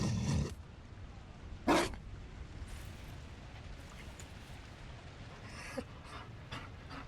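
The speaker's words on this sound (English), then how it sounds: "You found a dog?" A Mabari war dog in the fantasy game Dragon Age Inquisition pants softly through a quiet stretch, with a couple of louder breathy bursts near the start and faint scattered sounds later.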